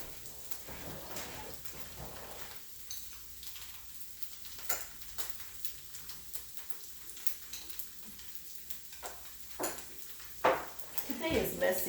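Tofu browning in a hot pan for sweet and sour broccoli and tofu, a soft steady sizzle running throughout, broken by spoon clinks and pan knocks.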